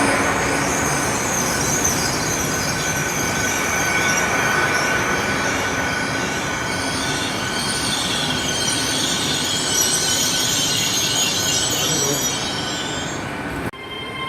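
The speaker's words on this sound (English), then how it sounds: "800-004, the unit at the front, and 800-008, the unit at the rear, on the delayed 11:42 to London Paddington" Class 800 units 800-004 and 800-008 departing on a delayed service to London Paddington, a steady rumble of the train pulling away with high wheel squeal and hiss running throughout, close and loud.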